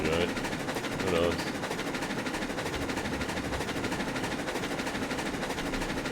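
A locomotive in the video game RailRoads Online runs fast, giving a dense, steady rolling roar with rhythmic wheel clatter throughout, loud and unbroken, with a brief rise early on.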